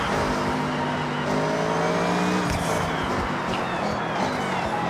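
Blue Honda Beat driven in Forza Horizon 6, a small-engine kei car humming and revving steadily at close range, with faint tire noise and no talk throughout.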